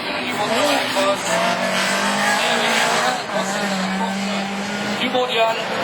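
Rallycross race cars roar around the new Châteauroux-Saint-Maur circuit, engines loud and continuous with a rising and falling pitch, tire noise mixed in, while a commentator talks over the racing throughout.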